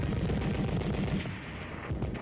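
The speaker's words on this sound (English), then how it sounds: "learn to fire additional weapons like the .30 caliber machine" .30 caliber machine gun firing on a training range, rapid bursts of sharp reports rattling in quick succession, loud and close, easing slightly toward the end.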